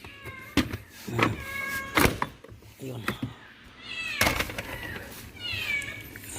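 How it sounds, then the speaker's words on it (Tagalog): A cat meows several times close by in a workshop during a glow plug relay repair, drawn-out cries spread across the moment, mixed with clanks and someone speaking briefly. "Binabantayan tayo ng pusa mga katropa."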